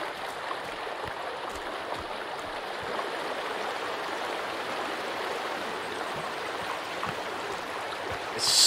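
Loud, steady rush of a flowing stream in the Sons of the Forest video game, a continuous broadband wash of water with no talk, swelling slightly at the very end.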